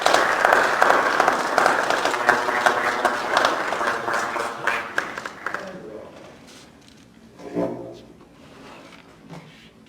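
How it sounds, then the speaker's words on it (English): Audience applause at a board of education meeting honoring graduates, dense clapping that fades out midway, followed by scattered knocks and a voice speaking. "I'd like to give you an applause"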